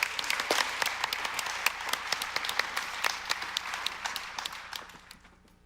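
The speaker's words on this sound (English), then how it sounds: "let's give CJ a warm welcome, applause, and welcome him to the stage" An audience at a 2017 community gathering applauds to welcome a speaker to the stage, with brisk, distinct claps that gradually thin out and fade away.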